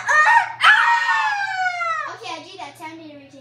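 A voice imitates a rooster crow, a rising then long wavering cry followed by a short trailing call, close to the microphone.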